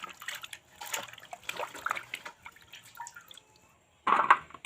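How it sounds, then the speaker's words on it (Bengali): Cut pieces of raw papaya being rinsed in a bowl of water, with soft intermittent splashing and dripping close by, then a louder burst of sloshing near the end. "এটা কিন্তু পরিষ্কারভাবে ধোয়া লাগবে যাতে এর কোনো আটা না থাকে"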